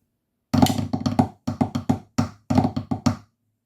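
A close, solo run of crisp drum strokes plays the second section of Illawalla, a marine snare solo, in short rhythmic clusters separated by brief gaps.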